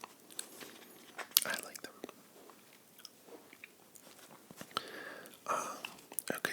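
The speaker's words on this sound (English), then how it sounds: "I am chewing on Tic Tacs today, so a little extra mouth noises" Close, soft mouth noises of someone chewing Tic Tac mints, with faint crunches and clicks scattered through a quiet whispered voice.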